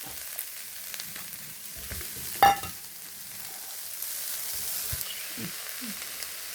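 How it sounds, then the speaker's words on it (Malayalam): Chopped onion, carrot and green chilli frying in a pan, a low, faint sizzle running throughout, broken by a sharp clink of a utensil and a few soft stirring scrapes. "അതിനോട് ഞാൻ ഉള്ളി അരിഞ്ഞുകൊണ്ട് ഇടുവാണ്. പിന്നെ ഒരു ക്യാരറ്റും പച്ചമുളകും."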